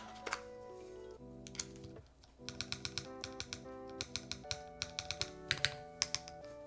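Keys are tested one after another on a Wraith 60 mechanical keyboard: crisp, close clacks in irregular bursts over steady background music.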